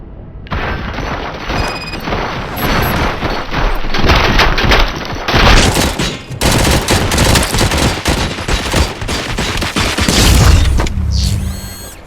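A film battle scene with a dense volley of gunfire, rapid overlapping machine-gun bursts and booming blasts running loud and continuous for about twelve seconds, with no talk.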